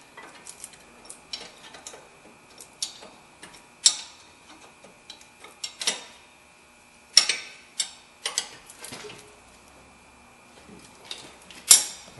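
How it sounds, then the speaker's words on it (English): A 17 mm wrench tightens a bolt on a front-wheel-drive car axle during replacement, making irregular ratcheting clicks and ticks in quick bursts, fairly close and moderately loud, over quiet background. "we're just going to use a regular 17 millimeter wrench to tighten that up"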